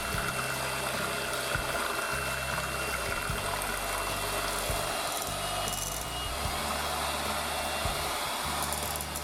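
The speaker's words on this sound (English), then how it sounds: "we're going to whisk the cream from 5 to 8 minutes." Electric mixer whisking cream for pineapple bourbon vanilla ice cream, a steady continuous motor whir with low rumble running the whole time, close and loud with no talking.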